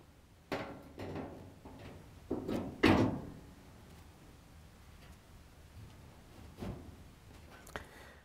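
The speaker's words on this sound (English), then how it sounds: "Now we can put the front panel back on the washer." The front panel of a Frigidaire/Electrolux washer is fitted back onto the frame and lifted to lock in place, producing a few hollow metal clunks and knocks that build to one louder bang, then quiet, with no talking.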